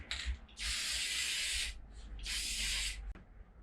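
Two long bursts of aerosol finish spraying onto a 1966 Fender Precision bass body, each hiss lasting over a second with a brief pause between, close and fairly loud, no talking.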